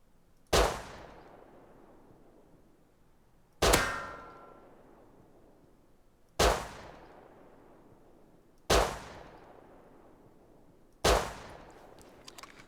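Five single semi-auto pistol shots in Rust, each a sharp metallic clang on a target, evenly spaced about three seconds apart and ringing briefly before fading into quiet.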